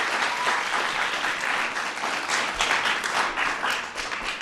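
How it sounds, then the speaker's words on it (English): Large crowd of children and adults applauding soccer players at an outdoor community event with LA Galaxy, steady dense clapping held at full strength throughout. "let's give them a big round of applause"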